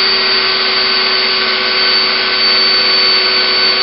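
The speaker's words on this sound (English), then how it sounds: "So basically I'm drilling right into the body until we get rid of almost all of the plastic in that joint." A power drill bores into the plastic body of a mech model, giving a loud, steady, unbroken whine that holds constant for several seconds.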